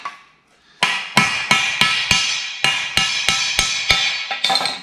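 Repeated hammer blows on metal while shrinking replacement tubular sections for a 1920s convertible top, about a dozen sharp close strikes in an uneven rhythm with ringing between them, alone without talk.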